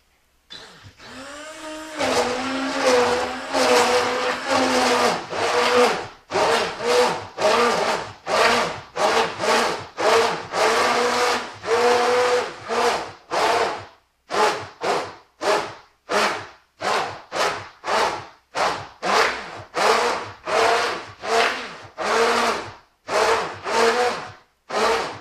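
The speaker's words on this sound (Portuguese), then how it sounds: "vocês vão pegar o mixer desse aqui ou a batedeira" An electric hand mixer or stand mixer whirs through pancake batter of flour, milk, salt and vanilla in bursts, a steady motor drone at first and then many short on-off pulses with rhythmic scraping.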